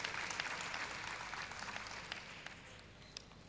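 An audience at a university convocation lecture applauds a former deputy vice chancellor, fairly soft steady clapping from a large hall that carries on evenly for a few seconds with no voices.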